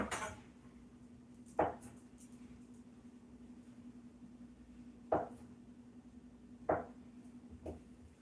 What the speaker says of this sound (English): cut in a couple tablespoons of butter